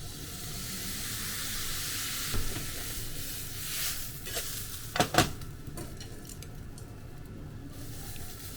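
Dark koikuchi soy sauce hitting hot fried yakisoba noodles in a pan gives a steady hiss and sizzle, with a brief louder burst of spattering midway and no talking.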